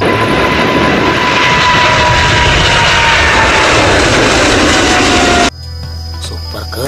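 Loud, steady airplane engine roar for a toy Boeing jet, filling most of the stretch before cutting abruptly to a quieter tonal hum near the end.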